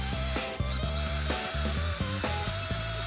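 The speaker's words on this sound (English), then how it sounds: "We're gonna have a bunch of screws here, a pre-drill, and we have a screw gun." A cordless screw gun drills a pilot hole in a beach-themed bedroom makeover, its motor whirring steadily and close by for several seconds in repeated bursts that pulse up and down in pitch as the bit bites into the material.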